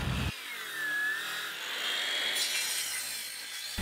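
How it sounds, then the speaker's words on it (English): A cordless saw cuts a series of relief cuts into wood, giving a faint, high buzzing whine with a brief rasping start and a steady grind that trails off. "Then I'll make a relief cut just about every 1/4 inch."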